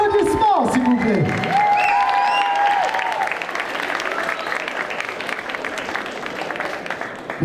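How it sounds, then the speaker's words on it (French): Audience applause and cheering at a cosplay contest during a Japan-themed convention in France, loud clapping with whoops that tapers slightly over time, alongside a brief amplified voice early on. "Applaudissements, s'il vous plaît."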